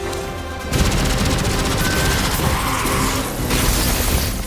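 Weapon fire from a Destiny 2 heat-building gun with a venting mechanic, starting after a brief quiet moment into a sustained, loud barrage of rapid shots and booms that continues to the end with no talking.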